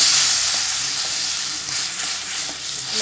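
Steady, fairly loud sizzle of onion and tomato paste sautéing in a pan for kadala curry, a continuous frying hiss with faint stirring over three seconds and no voices.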